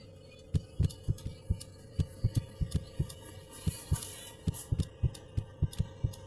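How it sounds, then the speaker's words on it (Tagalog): Heartbeat effect from a Roblox animal hospital game: regular paired thumps in a steady lub-dub rhythm over a low constant hum, clear and close, with no speech. "Heartbeat."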